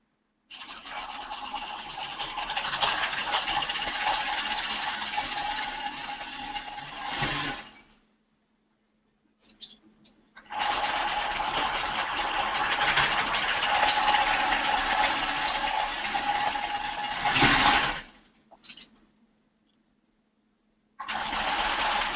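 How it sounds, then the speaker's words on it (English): A sewing machine stitches the long edges of a ballet bodice, its motor whirring steadily in two long runs separated by short pauses and brief restarts, close and loud with no talk. "Now I'm going to stitch my other long edges."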